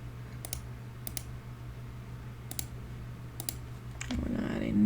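Computer keyboard typing, sparse close clicks in small clusters spaced out over a few seconds, quiet against a low hum, followed by a swell of other noise at the end.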